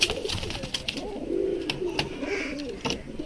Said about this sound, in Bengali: এখানে একটা আমি ম্যাটাস পায়রা দেখাচ্ছি